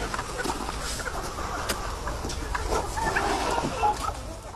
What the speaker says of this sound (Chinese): 同样以枸杞作为饲料的枸杞鸡